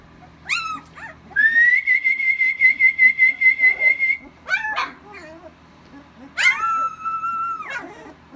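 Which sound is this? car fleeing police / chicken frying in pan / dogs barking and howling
dogs barking and howling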